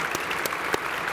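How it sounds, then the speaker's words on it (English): A brief burst of steady audience applause after a tech talk presentation, thick clapping with a few sharper individual claps standing out. "Let's give them a round of applause."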